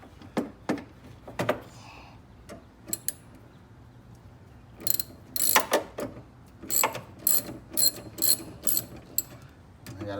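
A ratchet with a socket extension works on windshield wiper motor bolts, giving bursts of rapid close clicking in short runs separated by pauses and a few metallic clanks.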